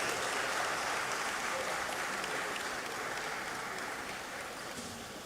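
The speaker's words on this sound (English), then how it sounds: "Please let's give her another round of applause." Audience at a conference opening ceremony claps in sustained, dense applause that fills the hall and fades gradually toward the end, with no voices over it.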